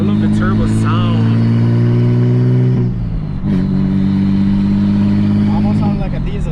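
A big-turbo BMW 335i pulls hard as its turbo spools up, a loud, steady engine drone rising through the gears with a brief shift break partway, heard from inside the car with talking over it.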